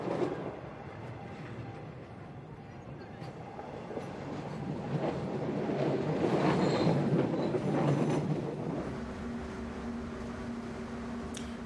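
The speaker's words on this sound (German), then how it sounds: "Seit 20 Stunden ist der Zug jetzt unterwegs." Luxury Eastern & Oriental Express train rolling through Malaysia, a steady loud rumble of wheels and carriages with faint squeals and rhythmic clatter swelling midway, no talking.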